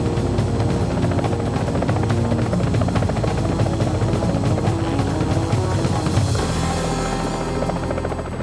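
A military helicopter's rotor thumps loudly and continuously at close range during a British peacekeeping operation in Bosnia, with no talking.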